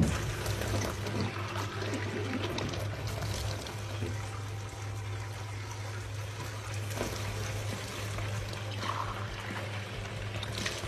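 Tap water runs steadily from a supply pipe in Baghdad's Al-Shaab district, a soft continuous pour and trickle with a low constant hum underneath and no voices.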